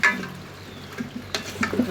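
Bitter gourd and salted hilsa frying in a pan, with a low sizzle broken by a few stirring scrapes and clinks near the end, no voices.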